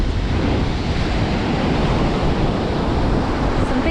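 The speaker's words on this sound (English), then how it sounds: "Some big waves rolling in there." Big ocean waves roll in at a New South Wales surf beach, a constant loud roar of surf mixed with wind buffeting the microphone, with no voices.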